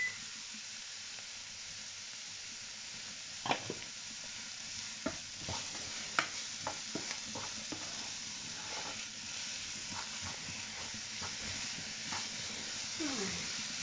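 Vegetables sizzle steadily in a pan while a utensil stirs and scrapes now and then, producing occasional sharp clinks over the constant frying hiss.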